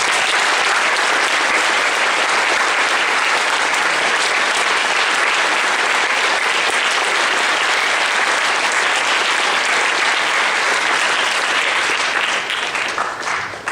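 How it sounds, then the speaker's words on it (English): A school audience at a Memorial Day assembly fills the room with dense, sustained applause, loud and continuous for over thirteen seconds before it begins to fade at the end. "a huge round of applause for Mrs. DePompa"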